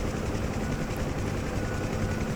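A Bell UH-1 Huey helicopter in DCS World gives a steady, close rotor thump and turbine roar that fills the whole stretch, heard alone with no voices, with rain noted in the setting.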